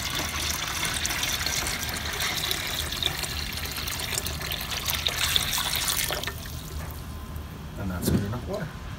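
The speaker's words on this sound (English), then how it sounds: "You don't want the water over top of your bottom jars," Water poured into a canner around stacked jars of whitefish, a steady gushing fill that tapers off near the end, heard under a person talking.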